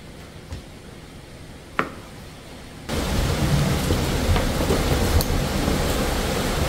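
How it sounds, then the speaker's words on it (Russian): Wind and rain lash outdoors, starting as a faint hiss, then swelling suddenly into a loud, steady downpour roar with gusts, heard close and alone. "На улице ветер, дождь, а Люся спит на улице."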